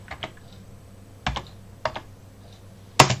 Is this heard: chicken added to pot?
no